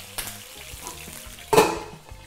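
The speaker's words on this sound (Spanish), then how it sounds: "mientras se fríen los ajos vamos a ir friendo también el pollo" Gentle sizzling of garlic and chicken frying in oil in a pan, with a few clinks of a utensil against cookware, one louder clatter partway through.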